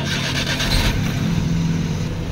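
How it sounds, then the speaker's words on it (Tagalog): A Suzuki DG62 with a newly replaced steering motor is started and settles into a steady idle, a close, continuous mechanical hum with no talking. "Ignition on, engine start."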